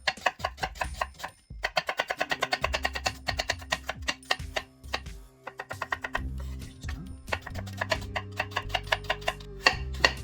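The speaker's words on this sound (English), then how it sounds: "Slice the onion" A knife thinly slicing peeled onion for mutton biryani, a fast, even run of sharp taps on a board close by, pausing briefly and then resuming, with a low hum underneath.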